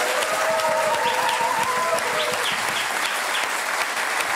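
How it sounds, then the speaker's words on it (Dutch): A studio audience on a Dutch talk show applauds steadily, with dense, even clapping that holds at a constant level for several seconds without a break. "Ik wil nu applaus."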